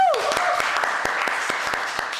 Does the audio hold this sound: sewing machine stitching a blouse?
no